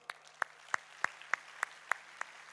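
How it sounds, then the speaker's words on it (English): A conference audience at a tech talk gives a sparse round of applause, about eight distinct claps spaced evenly at a slow rhythm, faint and close, over a low steady hum. "Let's give a big round of applause."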